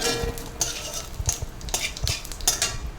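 White cumin seeds sizzle in hot oil in a pan, a steady frying hiss punctuated by sharp scrapes and clinks of a stirring spoon, close and without talk.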